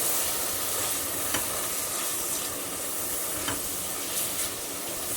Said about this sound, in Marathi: मी हा मसाला व्यवस्थित मिक्स करून घेते